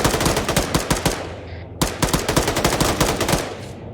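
A rapid, loud string of AK rifle shots in ArmA 3, fired in two close bursts with a short pause between, each crack sharp and evenly spaced.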